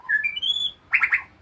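A white-rumped shama sings nearby: a rising sequence of clear whistled notes, then a quick burst of three harsh, scratchy chattering calls.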